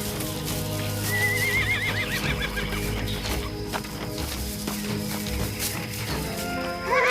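Several horses whinny and neigh over hoof clip-clop, with clucking fowl mixed in, all under a steady bed of music.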